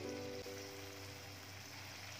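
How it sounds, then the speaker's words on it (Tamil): Moong dal pakoda batter frying in hot oil in an iron pan, a steady soft sizzling hiss throughout, faint and even, with a low hum underneath. "இப்போ நம்ம பக்கோடாவை போட்டு எடுக்கலாம்."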